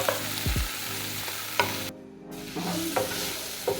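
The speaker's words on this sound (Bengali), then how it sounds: "এবার এটা মোটামুটি ভাজা হয়ে গেছে" Onion, tomato and capsicum fry in mustard oil with turmeric and salt, a steady close sizzle broken by a few scraping stirs of the spatula, with a short quieter gap midway.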